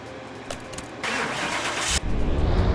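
A barn-find car's factory engine, listed at 456, cranks and catches on a dyno, then settles into a steady mid-pitched running drone that grows louder after a brief surge, close and unaccompanied by talk.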